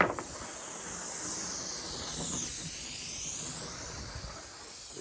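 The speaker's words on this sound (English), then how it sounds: "so you can just spray this lovely glue on here" Aerosol spray glue hisses continuously from a fine aerosol tin outdoors, a loud steady spray lasting the full five seconds without pause.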